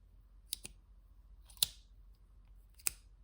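Three sharp clicks from an Urban Survival Gear v2 Mini titanium folding knife's action, a quick double snap followed by two single ones spaced about a second apart, close and crisp in a quiet room.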